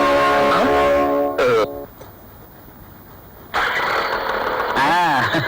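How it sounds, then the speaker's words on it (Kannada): A vehicle engine is cranked with a key and catches with a brief mechanical roar, then drops away to quiet before loud music and voices return. "ಸರಿಯಾಗಿ ಕೀ ಹಾಕಿ ಸ್ಮೂತ್ ಆಗಿ ಸ್ಟಾರ್ಟ್ ಮಾಡಿ"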